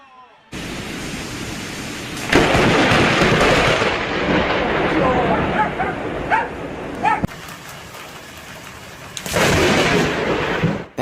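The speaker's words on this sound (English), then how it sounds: "that was a powerful lightning strike" A powerful lightning strike hits a nearby tree, setting off loud broadband thunder cracks and rolling rumble in several surges, while a dog barks and people react.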